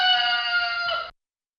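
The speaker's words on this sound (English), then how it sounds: "Was that a rooster?" A single rooster crows once, a bright harmonic cock-a-doodle-doo lasting about a second, clear and alone before cutting off to silence.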